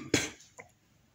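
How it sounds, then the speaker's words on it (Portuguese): A single sharp cough, close and fairly quiet, followed a moment later by a faint second throat sound, with no talking. "Eu tive uma tosse aqui."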